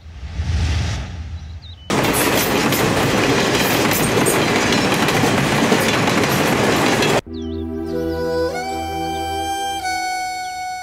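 A train at Borra railway station starts with a short rumble, then a loud, dense roar of passing carriages, and ends with steady tonal hum and whine as the sound abruptly changes.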